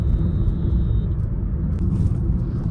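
A 2026 Kia Seltos top model runs its engine with a steady, low, close rumble from start to finish, and a faint thin whine fades out early on.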